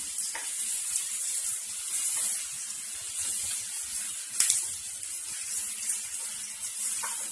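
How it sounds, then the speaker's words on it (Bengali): Onion paste and ginger paste frying in oil for mutton biryani, a steady bright hiss with a sharp spatter burst midway, close and even, with no talk. "পেঁয়াজ বাটা, আদা বাটা সব দিয়ে দেবো।"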